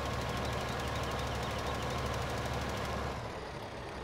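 Tractor engine in Landwirtschafts Simulator 15 droning at a steady, loud, throbbing pitch with a rhythmic pulse, running continuously and easing slightly near the end, with no speech.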